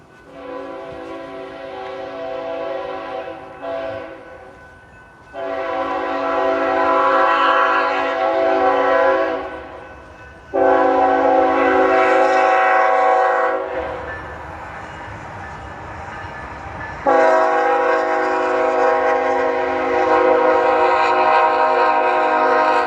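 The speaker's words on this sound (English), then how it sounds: "Uh-oh, the train's coming." A freight train rolls through small-town Buckholts, Texas, its loud horn sounding in several long, sustained blasts separated by short gaps, with the rumble of rail cars continuing between blasts.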